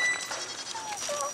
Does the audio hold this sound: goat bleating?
yes